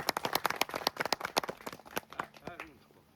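An audience gives a round of applause, with many sharp, close claps that thin out and fade as a voice begins talking near the end.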